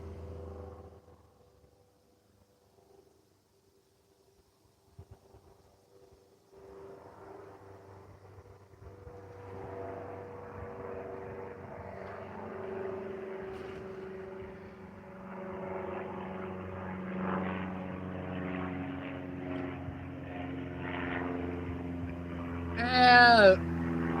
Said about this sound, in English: Good old airplane just flew overhead.